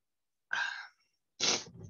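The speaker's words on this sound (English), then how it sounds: "hang on, I might sneeze" A single sharp sneeze, close and fairly loud, with a short breathy lead-in followed by a brief nasal snort and exhale.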